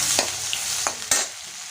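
Ground ginger, garlic and fennel paste sizzling in hot oil with fried lentils for vada curry, a loud steady hiss broken by a few sharp stirring scrapes and spatters, close up with no one speaking.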